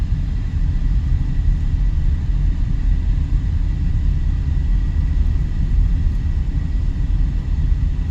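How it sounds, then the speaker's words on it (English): A Frontier Airlines airplane descending to land at Las Vegas airport, heard as a steady, loud low rumble of engines with broadband roar that holds constant throughout, no voices present. "You can see there's a plane coming in right there now."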